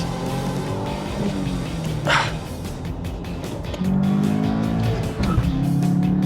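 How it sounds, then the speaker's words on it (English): Turbocharged cars, a Subaru and a VW Jetta GLI, roar and rev hard as they launch in a drag race, with a brief tire screech and rising engine pitch, no voices. "Not a great launch in the Subaru, but once you get it on boost"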